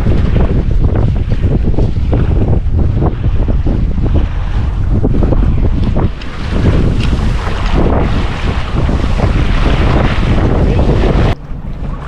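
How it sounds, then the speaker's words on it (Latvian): Strong, steady wind roaring and buffeting the microphone aboard a yacht in Sweden, mixed with rushing water and waves, loud and continuous with no talking. "Vējš tad ir."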